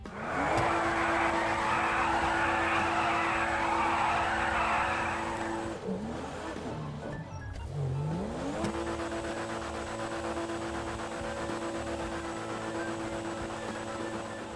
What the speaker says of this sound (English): The air tug will still make squealing tire noises even if it's lost its tires.